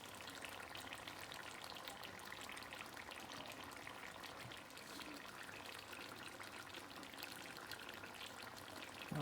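Tomatoes and green chilli hit a hot pan over a low gas flame and sizzle in a steady, faint frying hiss that lasts throughout, with no talking.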